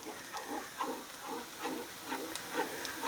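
A flour roux for a creamy orzo pot pie cooks in a pot, with a soft, steady sizzle and hiss under repeated scraping strokes of stirring at a regular rhythm.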